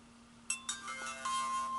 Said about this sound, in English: Okay, so you hear the camera started